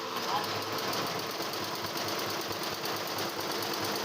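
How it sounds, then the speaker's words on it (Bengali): An embroidery machine stitches a design onto a panjabi in a garment factory, making a fast, steady mechanical rattle that runs loud and close without a break across the few seconds. "কিন্তু এমব্রয়ডারি মেশিন থেকে এরকমটাই ডিজাইনটা হচ্ছে"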